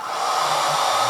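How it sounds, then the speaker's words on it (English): A hair dryer runs loud and steady, powered from an ALLPOWERS R600 portable power station, with a constant whooshing airflow and motor whine that holds without a break. "turn the heat gun off and turn the hairdryer back on"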